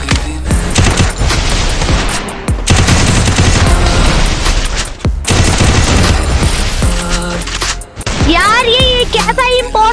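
Dense automatic gunfire and booming shots in a mobile shooter game, loud and nearly continuous with short pauses, an excited voice commentating over the shooting and electronic game tones toward the end.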